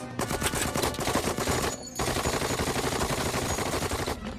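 A cartoon gun turret fires in dense, rapid bursts of loud continuous gunfire, pausing briefly before resuming at full force.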